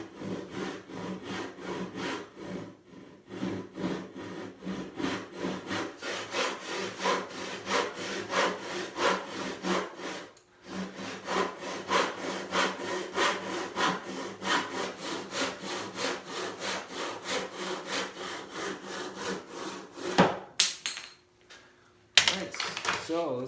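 A hand saw cuts a taper on a wooden sideboard leg in a workshop. The strokes are steady, rhythmic and close, with a brief pause partway through and some knocking near the end.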